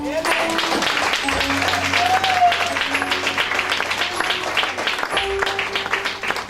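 A church congregation applauds the Lord at a Christian worship service, a loud, sustained wash of clapping that fills the room, with voices and shouts mixed in under it.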